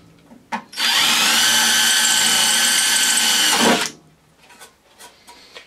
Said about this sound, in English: that has put marks into the cowl where we're going to drill down